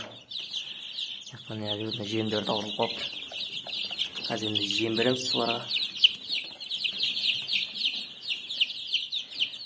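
About sixty-five chicks, just over two weeks old, chirp constantly in high, overlapping peeps inside a brooder under an infrared heat lamp, while someone talks nearby in two short stretches.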